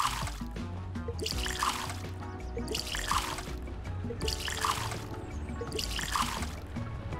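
Water pours and trickles steadily in the Soda Story brewing tycoon game, a continuous liquid stream layered over looping game music with no talking.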